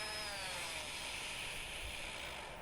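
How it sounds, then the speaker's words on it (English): A power sander whines steadily against angsana wood, a continuous high buzzing grind at close range with no talking. "What I'm sanding now is actually angsana wood."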